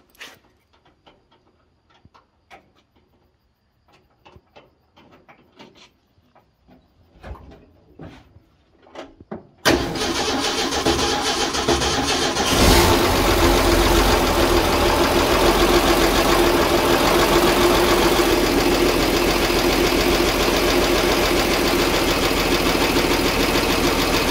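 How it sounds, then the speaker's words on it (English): A 1965 Ford F-250 with a newly installed cam: a few faint clicks and knocks, then the engine cranks and catches into a loud, continuous, rough idle that runs steadily to the end with no talk. "Crank this hog up, brother."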